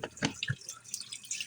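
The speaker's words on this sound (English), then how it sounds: "then I'm going to wash my hands a little" Hands being washed at a sink after preparing a turkey for baking: short drips and splashes of running water, close and fairly quiet, with a brief burst of water near the start.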